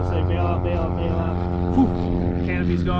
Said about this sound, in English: even with this canopy cracked this far, it creates so much noise, you can't talk there